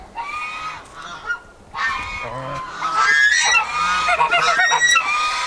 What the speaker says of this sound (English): Now have another goose going broody in that nest box.